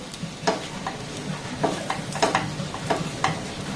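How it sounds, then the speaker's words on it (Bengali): A spiced oil-free snack filling with whole garam masala and chaat masala being stirred and mixed in a pan, with repeated spoon scrapes and taps over a soft, dry rustle. "সমস্ত উপকরণ আবার একটু ভালোভাবে নাড়াচাড়া করে মেখে নেবো"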